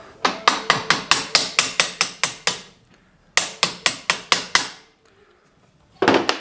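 Two bursts of rapid, evenly spaced hammer blows driving bolts into wood while assembling an arbor injection press, about a dozen then six, separated by a pause, with another strike starting at the end.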